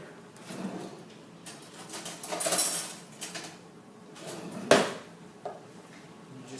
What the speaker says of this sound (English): Now that you've added your egg, you want to mix it with a fork.